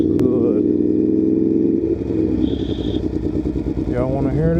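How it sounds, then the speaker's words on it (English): A 2018 Aprilia Tuono V4 1100 Factory motorcycle engine runs close by with a throbbing, pulsing exhaust note and slight revving, while someone talks over it. "Bike sound good."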